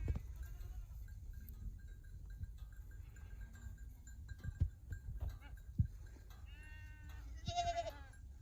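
Goats on a ranch bleating a few times in the distance, short wavering calls near the end over quiet outdoor rustle and soft thumps.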